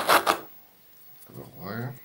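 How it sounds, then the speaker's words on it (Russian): Plastic packaging of a Bird's Milk (Ptichye Moloko) cake crinkles in two quick, sharp rustling bursts up close, followed after a pause by a person speaking. "Вот сейчас мы открываем наш любимый тортик."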